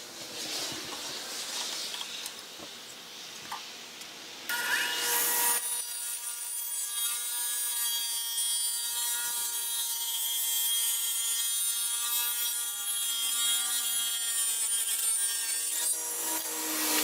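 Hand saw cutting through a wooden board, rapid scraping strokes close by that shift to a brighter, ringing rasp partway through, continuous with no talking.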